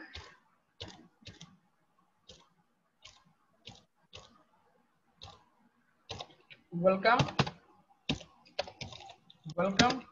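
Sparse, light keystrokes tap on a computer keyboard, close and quiet, in short irregular bursts, while someone talks over the later part.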